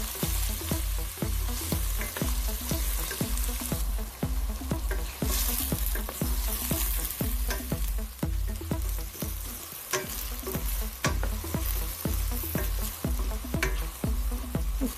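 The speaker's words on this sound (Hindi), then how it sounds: "अच्छी तरह से आप अपने सारे प्याज जो काट के रखे हुए थे वो ऐड कर लें।" Chopped onions frying in hot oil in a pan, a continuous loud sizzle punctuated by regular, rhythmic scraping strokes of a spoon stirring them throughout.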